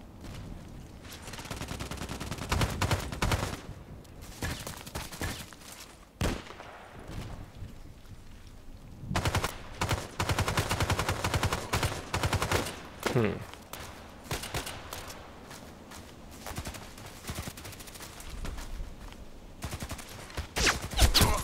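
An SVU-AS automatic sniper rifle fires in the Contract Wars shooter game, with repeated sharp shots and rapid bursts in clustered volleys between quieter gaps, and a player's voice talking over parts of it.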